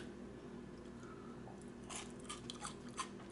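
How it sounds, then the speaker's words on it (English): Someone chews crunchy rendered pork fat crunchies, a few quiet crisp crunches that come toward the end over a low steady background hum, with no talk. "I don't know whether you can hear it crunch or not, but it does crunch."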